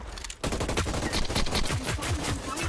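Rapid automatic gunfire in the video game Hyperscape, a loud, fast string of shots that bursts in after a brief pause and keeps rattling without letup.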